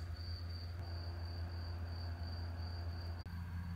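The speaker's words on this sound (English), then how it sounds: "Those are the annoying crickets" Crickets chirp in a steady, continuous high trill alone during a tarantula feeding, with a low hum beneath and a brief soft knock near the end.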